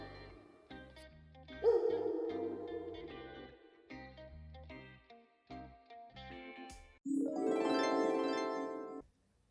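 Wolves howl in two drawn-out, wavering cries over a light musical backing, the second howl long, loud and close, with short plucked tones between.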